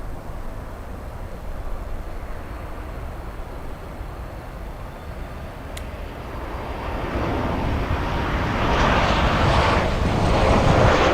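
Boeing 777 airliner at Miami International Airport, a broad jet roar building steadily from a low rumble to a louder, fuller wash over the last few seconds, heard outdoors with wind buffeting the microphone.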